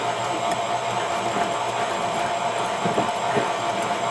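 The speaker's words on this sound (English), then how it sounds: "Our mixer is on low" A kitchen stand mixer runs on low speed while mixing lemon cake batter, producing a steady, close, even whirring hum that holds without a break throughout.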